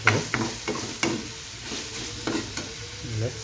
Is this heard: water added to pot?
yes